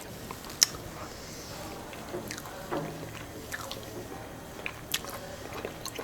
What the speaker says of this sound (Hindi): हाफिज़ साहब आप खा रहे हैं, यकीन माने मेरे मुंह में पानी आ रहा है